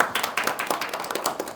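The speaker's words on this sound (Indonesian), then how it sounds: "Tepuk tangan untuk kita semuanya." A classroom audience at UIN Tulungagung breaks into brief, dense hand clapping at the end of a teaching-practice lesson, a short burst of moderately loud claps with no talking over it.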